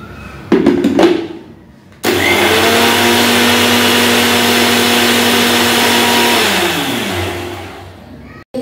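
A mixer grinder grinds poppy seed paste with a pinch of salt: a brief rattling burst, then a loud, steady motor whine lasting about five seconds before it winds down to a stop.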